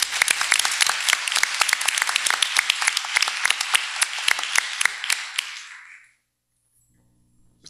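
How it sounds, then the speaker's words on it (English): A school board meeting audience gives a round of applause, a modest group with distinct individual claps standing out, lasting about six seconds before stopping abruptly into near silence. "Let's give them a round of applause."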